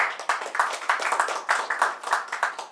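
At a Hindi poetry recital, a small audience claps for a poet with distinct, separate claps in an uneven rhythm, close and clear, with no talk over them.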